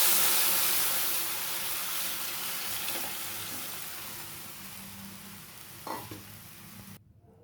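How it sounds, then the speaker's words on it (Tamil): Second coconut milk and tamarind water poured into a hot tempering for rasam, a bright hissing sizzle that fades gradually over several seconds, with a soft stirring clink near the end before cutting off. "இதில் நம்ம வடிகட்டி வச்சுக்கிற ரெண்டாவது தேங்காய் பாலும் புளி தண்ணியும் இந்த கரைசலை இதில் ஊற்றிக்கலாம்."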